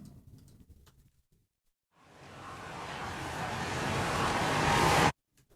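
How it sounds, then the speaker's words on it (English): A dense, swelling mass of growling noise builds steadily louder over a few seconds, then cuts off abruptly into silence. "this riser is actually like a zombie horde"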